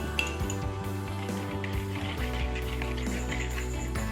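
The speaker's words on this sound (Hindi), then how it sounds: "और अब हम इसे मिक्स कर लेंगे।" Mixture for malai boti chicken whisked in a bowl with a beater, giving repeated light clinks and scrapes of metal on the bowl over steady background music.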